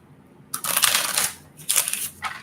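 A secondary deck of playing cards being shuffled up close, with two loud riffling bursts followed by a shorter third flutter, alone and without talk.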